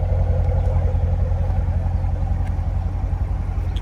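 A stock 2016 Chevrolet Corvette C7 engine runs with a steady, loud low rumble heard from inside the car, without a clear rising rev.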